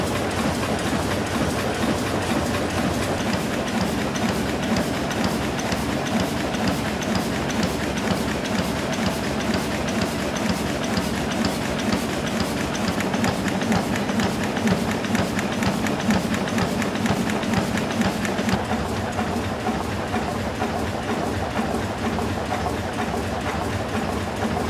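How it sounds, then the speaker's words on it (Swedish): Old diesel engines built by AB Diesels Motorer in Sickla run in a power plant inside a hidden fortress, making a dense, continuous rhythmic mechanical clatter that stays steady and loud throughout with no talk. "Dieselmotorerna är tillverkade av AB Diesels motorer i Sickla utanför Stockholm,"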